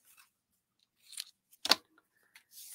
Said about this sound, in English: My other pair of scissors.